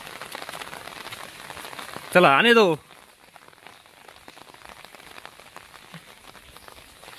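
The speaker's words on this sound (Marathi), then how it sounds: "जोरदार पाऊस चालू आहे" Heavy rain falls steadily on a car while people sit inside; a short voice passage breaks in partway, then the dense patter of rain continues alone.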